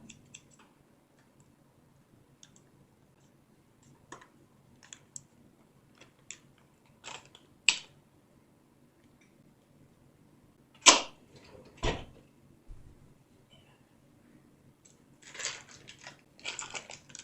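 Scissors snip open plastic food packaging during pizza and garlic bread making, giving sparse faint clicks and a few sharper rustling cuts spread across a quiet stretch.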